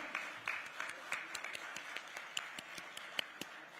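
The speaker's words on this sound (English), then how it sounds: "Huge round of applause, ladies and gentlemen." An audience at a tech awards ceremony applauds a winner with a steady patter of clapping, moderately faint and sustained.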